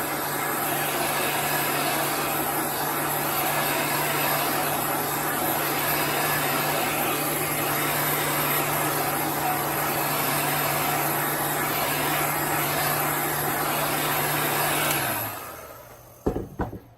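A handheld dryer blows steadily for about fifteen seconds on a freshly washed chalk stencil, a loud constant whooshing hum that cuts off near the end, followed by a few clicks and handling noises.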